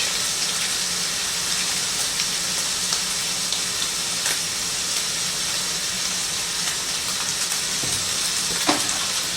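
Garlic and tomato paste frying in a pan with pork sausage for rigatoni rosa, a steady loud sizzle with faint stirring clatter throughout.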